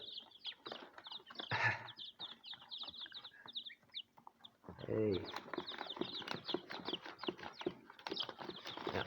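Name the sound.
chicks chirping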